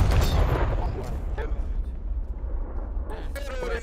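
Bomb exploding in a multiplayer video game, a heavy deep boom at the start that rumbles and fades over a few seconds, with players talking over the aftermath.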